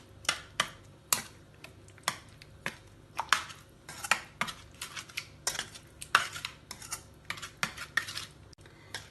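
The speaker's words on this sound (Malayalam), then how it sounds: "തൈര് സ്പൂൺ കൊണ്ട് നല്ലോണം ഉടച്ച് ചേർക്കാം. ഇത് നല്ലോണം ഇളക്കി മിക്സ് ചെയ്യാം." A spoon mashes and stirs curd into pineapple pachadi in a bowl, producing close, repeated scraping clinks against the dish in a steady, uneven rhythm with no talking.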